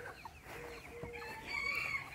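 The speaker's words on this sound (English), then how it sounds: "Why, good morning, rooster." A rooster crows outdoors on a rainy farm morning with peach trees, its strained call rising at a moderate distance over steady background noise.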